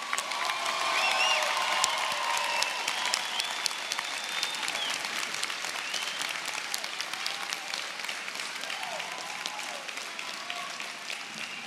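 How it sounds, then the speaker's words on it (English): Applause for MBA graduates at a Post University commencement ceremony, a large crowd clapping loudly and continuously for over ten seconds with scattered cheers rising early, then settling into steady, slightly softer clapping. "Can I get a big round of applause for our MBA graduates?"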